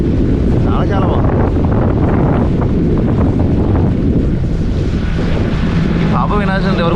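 Strong wind at Udupi beach buffets the microphone in a loud, continuous roar, with surf and water sounds underneath and a brief whistle-like tone near the end.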